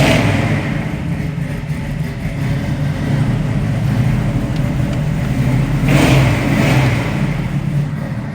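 A 1968 Pontiac Firebird with a 400 engine and dual exhaust cranks into life, then rumbles and revs with a couple of throttle surges, close by and loud with no talking.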